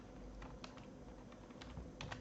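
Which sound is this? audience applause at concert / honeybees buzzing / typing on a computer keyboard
typing on a computer keyboard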